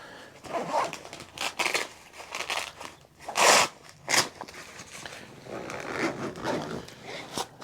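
Several quick zipper pulls on a military surplus backpack, some short and some drawn out, with rustling and crinkling of fabric in between; close by, no talking.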